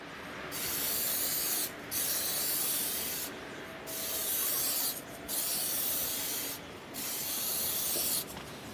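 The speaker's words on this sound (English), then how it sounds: "I then had to spray more base coat," A spray gun hisses in five long bursts of base coat paint separated by short pauses, loud and close, with a steady airy spray sound.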